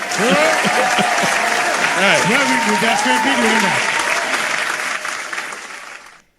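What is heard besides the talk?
audience applause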